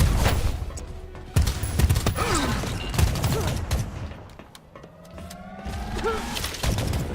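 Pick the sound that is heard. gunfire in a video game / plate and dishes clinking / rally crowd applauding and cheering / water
gunfire in a video game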